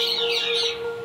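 Green parakeets calling at Bahawalpur Zoo, a close cluster of bright, squawky chirps over a steady background hum, with no talk.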